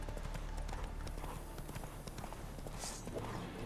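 Horse hooves clip-clop at a steady walking rhythm in The Witcher 3: Wild Hunt, continuous and fairly close over a constant background bed of game ambience.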